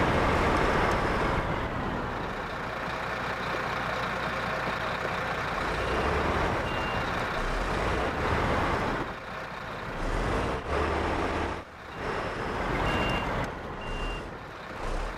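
A wheel loader's engine strains under full throttle in the Snowrunner video game, a loud, continuous heavy-diesel roar that dips briefly a couple of times before surging again, with reversing beeps over it and no talk.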